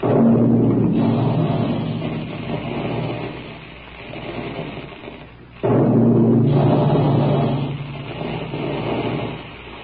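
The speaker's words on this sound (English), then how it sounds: "That's the sound you hear when puffed wheat and puffed rice are shot from special guns in the Quaker plant" Quaker puffing guns fire at a plant making puffed wheat and puffed rice, giving two big roaring bursts that swell and fade like loud rushing blasts, with no voices.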